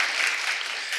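An audience at a university guest lecture on criminal psychology claps, a brief burst of dense, even applause from many hands, with no speech.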